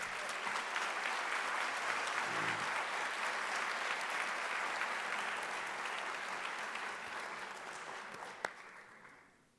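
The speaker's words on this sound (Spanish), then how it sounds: "por favor, un fuerte aplauso para un muy meritorio dirigente político, David Smolansky." Sustained audience applause at a political panel event, a thick wash of many hands clapping that holds steady and loud for several seconds before gradually tapering off near the end.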